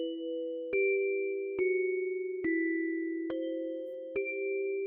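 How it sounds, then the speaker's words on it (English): Synthesized bell tones from a swamp-themed game promo ring five times at steady intervals, each a bright struck ding over a sustained low drone, fairly clear and alone. "So it actually kind of started with that bell sound."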